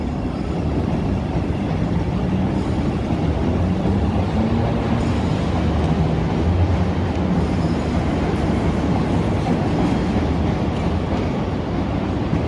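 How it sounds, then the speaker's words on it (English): An elevated L train rolling past in downtown Chicago, a loud, continuous rumbling roar of wheels on rail that stays close and steady throughout, with no talking. "now there's another train coming"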